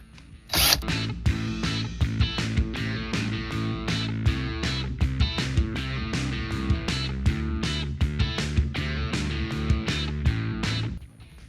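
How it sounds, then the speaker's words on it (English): A power driver with an 8mm socket whirs in rapid repeated bursts, close and fairly loud, while removing four bolts during a car radio swap on a 2011–2015 Hyundai Sonata. "I'm gonna remove these 4 bolts."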